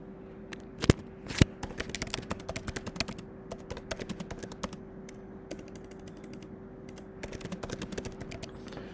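Computer keyboard typing, a steady run of quick soft key clicks with a couple of sharper louder taps near the start, fairly close and with no talking.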